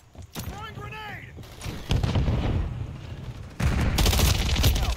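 Rapid gunfire crackles and booms in a chaotic video game battle, dense bursts of shots layered with voices calling out over the din, loud and sustained throughout.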